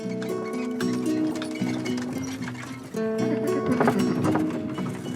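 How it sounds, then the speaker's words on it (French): A horse's hooves clip-clop steadily along a road, pulling a carriage, beneath loud background music, with a rhythmic trotting pace. "Ce matin, Abraham a fait harnacher son plus beau cheval."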